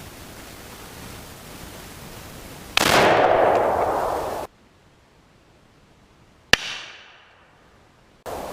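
A Savage 99EG lever-action rifle chambered in .300 Savage fires outdoors: one loud sharp report with a decaying rumble, then a second sharp crack later on, both over background hiss.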